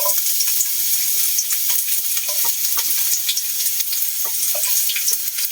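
Onion sizzles and fries steadily in a hot pan while a stir-fry of canned tuna and broccoli is started, with a constant hiss broken by a few small clinks and crackles.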